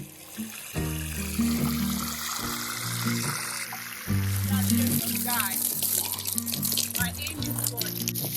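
Water poured onto a newly built fence in a village garden while its cement cures, splashing and trickling in bursts with pauses between them, under background music.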